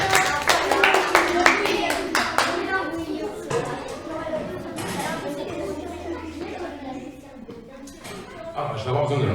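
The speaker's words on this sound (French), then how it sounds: "Et on peut l'applaudir bien fort." Audience at a children's magic show applauding a child volunteer, a burst of loud close clapping at the start that thins out, with an adult and children talking over and after it.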